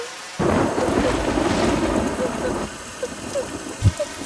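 A thunderstorm with rain: a deep rumble of thunder swells in after a short pause, and a steady wash of rain follows, with a few faint drips and thuds near the end. A voice is faintly present.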